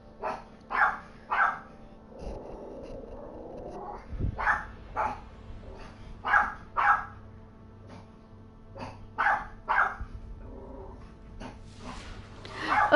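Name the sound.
dog barking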